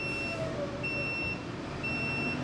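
A garbage truck's reversing alarm beeps three times in a steady rhythm, loud and close, over a rumbling engine.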